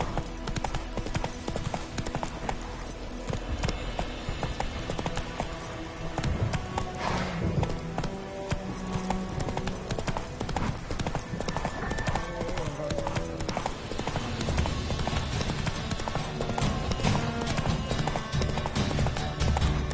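Horse hooves clip-clopping at a steady gallop in The Witcher 3, a fast, continuous rhythm under a busy, loud game mix with music and other effects throughout.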